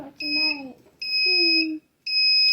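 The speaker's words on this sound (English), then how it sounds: "So you can make something that makes an alarm." A small buzzer alarm wired into a simple push-button circuit sounds in three loud, steady electronic tones with short gaps, while someone speaks briefly at the start and middle.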